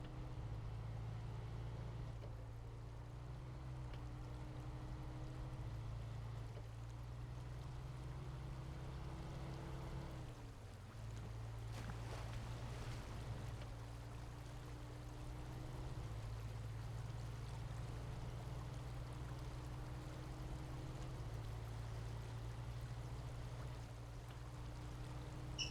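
Heavy truck in the Snowrunner video game rolling slowly through water running across a road, a steady low engine drone with a continuous watery rush and splashing layered over it, fairly constant throughout.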